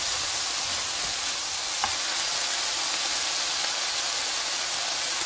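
Shishito peppers and anchovies stir-frying in soy sauce in a pan, a steady close sizzle and hiss with faint stirring underneath, no voices.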